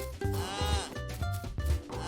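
Several people imitate a cow's moo together during a children's Simon Says game, voices overlapping in drawn-out repeated calls that rise and fall over about two seconds.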